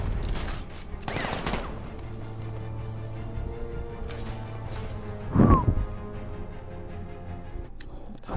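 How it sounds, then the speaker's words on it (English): Gunfire hitting the player in Batman: Arkham Knight, rapid bursts of shots over a steady humming game soundscape, with a louder crackling burst near the middle and sharper blasts at the start and end. "I'm also getting shot to death"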